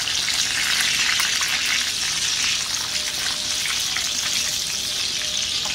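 Pork lechon kawali fries in its own rendered fat with a loud, dense and steady crackle that carries unbroken from start to finish.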